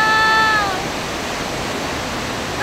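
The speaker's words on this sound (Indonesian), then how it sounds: "aku lagi berada di Leke-Leke Waterfall" Leke-Leke Waterfall in Tabanan pours in a steady, loud, broadband roar of rushing water. A faint high whistling tone fades in the first moment, and no one speaks.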